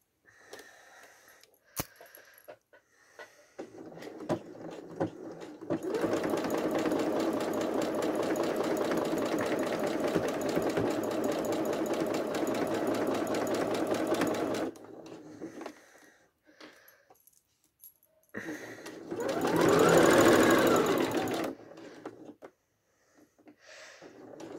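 A sewing machine stitches a seam around the edge of a fabric folder, a steady close mechanical whir running for several seconds, pausing, then another shorter burst of stitching.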